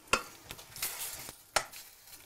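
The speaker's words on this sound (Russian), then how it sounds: "Помешаем." A spoon scrapes and stirs caramelized sugar in a pot while making ketchup, giving a few sharp clicks and soft scraping strokes against the bottom, close and moderately quiet.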